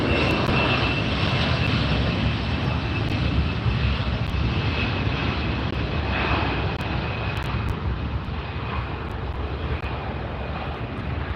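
An American Airlines Boeing 737-800 arriving at LAX from Vancouver roars past in a steady, loud engine rumble that fills the whole stretch without letting up.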